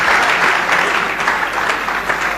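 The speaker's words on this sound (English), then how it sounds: "If you want to clap, clap better." An audience applauding, dense steady clapping from many hands filling the whole stretch, loud and even without pauses.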